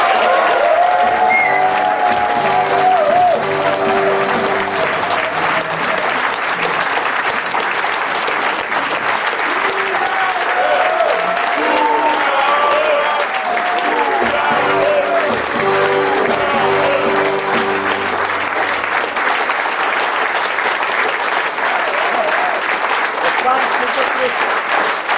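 An audience in an old Cologne brewery applauds loudly and steadily, with talking heard beneath the clapping throughout.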